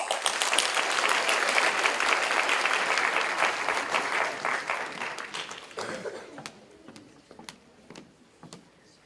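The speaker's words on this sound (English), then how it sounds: "One more round of applause, guys." Audience applause at a senior scholarship night and honors program, a dense crowd clapping that swells loudly for several seconds, then thins out and fades into a few scattered claps.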